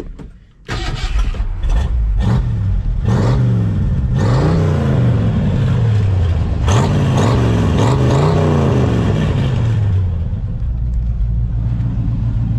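A V8 302 engine in a 2000 Ford Ranger drift truck, running through dual Harley mufflers, bursts to life and revs repeatedly in loud, throaty swells that rise and fall over a steady rumbling idle, with no talking.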